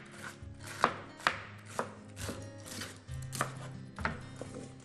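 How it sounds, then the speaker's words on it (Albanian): Cabbage chopped finely with a knife on a board, a steady run of sharp close blade strikes with a few louder knocks, no voices. "e marrëm dhe e presim imët"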